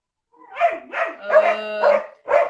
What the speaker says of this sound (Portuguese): Tem um cachorro aqui.